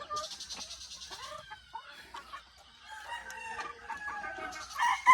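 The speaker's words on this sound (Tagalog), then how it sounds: "Okay, mga manok guys." Farm chickens clucking steadily nearby while a rooster crows loudly, followed by more crowing and cackling outdoors in the morning, with no talk.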